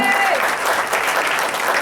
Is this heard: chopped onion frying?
no